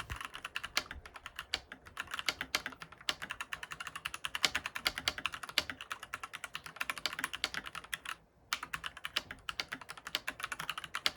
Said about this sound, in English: you can hear that this keyboard sounds really good